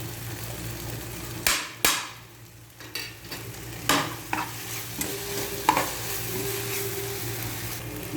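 Spices sautéing in a pan with turmeric, salt and chilli powder for a rice dish, a steady low sizzle broken by several sharp scrapes and clatters of a spoon stirring against the pan, with no talking.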